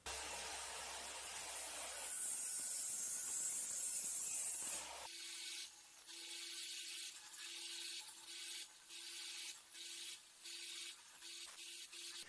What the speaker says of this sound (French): on va lancer la scie et on va utiliser l'axe de rotation pour couper à la bonne distance